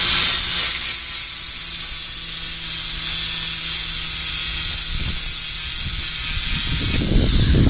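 A Dremel rotary tool grinding the teeth of a chainsaw chain gives a steady, loud high-pitched whine with a gritty hiss that runs continuously and close by, alone without talk.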